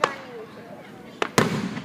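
Fireworks burst in two sharp, loud bangs near the end, preceded by a crackling pop at the start and faint chatter in the background, with voices of people nearby.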